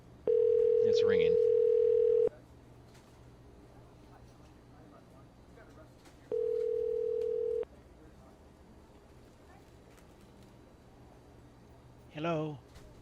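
Two long steady ringback tones sound on an outgoing phone call, each lasting about a second or two with a quiet gap between them, over faint background hum. A brief burst of voice follows near the end.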